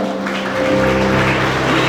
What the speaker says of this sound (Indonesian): Tepuk tangan buat Ko Jason dong